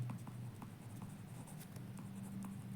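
A pen writes out a math proof on paper with soft continuous scratching and short rhythmic strokes, close and quiet, with no talking.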